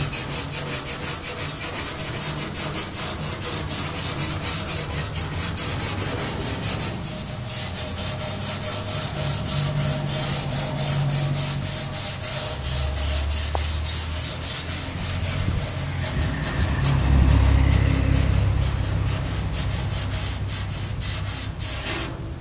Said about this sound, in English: A little wire brush really loosens that right up. Stainless steel wire brush is what you want to use.